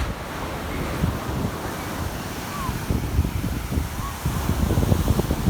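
Ocean surf rolls and washes continuously onto Gorleston beach, UK, on a sunny day, mixed with gusty wind rumbling across the microphone and no voices.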